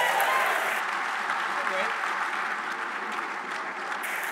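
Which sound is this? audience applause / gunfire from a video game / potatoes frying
audience applause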